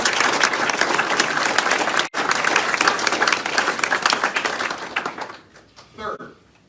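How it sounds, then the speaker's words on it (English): Steady audience applause fills a hall during a Virginia governor's public announcement on behavioral health, dense and sustained before tapering off near the end, with a brief voice after it fades. "we have to stop and all give them a round of applause"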